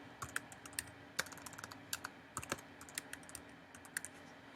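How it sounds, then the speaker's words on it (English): Username and password being typed on a computer keyboard during a login, a quiet run of irregular key clicks with brief pauses between bursts, close and alone. "You're going to type it in. You're going to put in your password."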